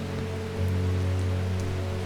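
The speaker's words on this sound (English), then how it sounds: "This day in the game is really rainy, so the ambiance is very nice." Steady rain ambience from the video game Strange Horticulture, a continuous patter of raindrops with a low hum underneath, loud and constant with no talking.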